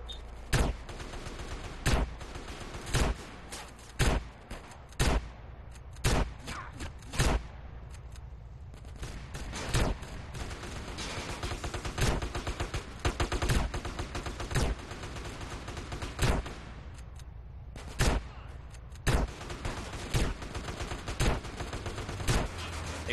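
Video game roleplay gunfight: sharp single gunshots crack repeatedly and irregularly over about twenty seconds, some in quick clusters, at moderate loudness.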